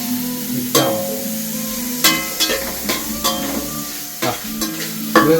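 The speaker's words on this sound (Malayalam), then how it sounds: "പുതിനേൻ്റെ ഇലയും മല്ലിത്തളയൊക്കെ കൂടി നല്ലോണം മിക്സ് ആക്കുക." Mint leaves, onion and coriander frying in a pan, stirred with a utensil that gives several sharp scraping clinks against the pan over a constant close sizzle.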